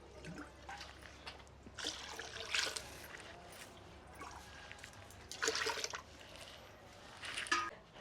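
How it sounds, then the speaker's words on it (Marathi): Water pours and splashes into a kadai in several bursts, close and moderately loud, with no talking. "दोन तीन तांबे पाणी कडीत टाकून घेऊया"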